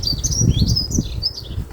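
Small birds chirp in a garden near a feeder in spring, a few quick, high tweets scattered over a couple of seconds above a low background rumble.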